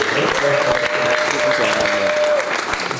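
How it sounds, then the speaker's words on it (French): Wedding guests at a Congolese church wedding clap steadily for the groom's brother in his three-piece suit, a dense sustained round of applause with a faint tone and scattered voices underneath. "Acclamez pour mon frère qui est en 3 pièces"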